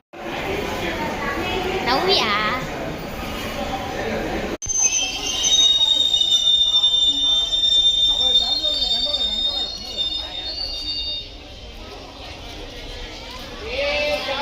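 A train rolls past near a platform, its wheels letting out sustained high-pitched squeals over a loud rumble, while people talk nearby.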